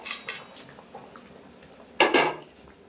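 Fried fish pieces go into a simmering raw mango curry for aam shol, soft clinks and scrapes of utensils against the pan, then a sudden louder splash and hiss as the fish lands.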